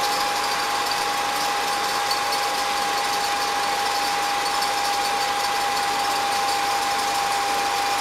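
A Revere Model 85 camera motor whirs steadily in reverse, a constant mechanical hum with a thin high whine running unbroken and close, with no voices.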